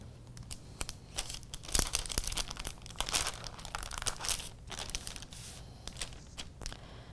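A paper skirt pattern is folded at the top to mark a tuck, giving steady close crinkling, rustling and crisp creasing with no talk.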